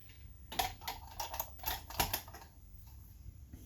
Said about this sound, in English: And then you just clip it back on again.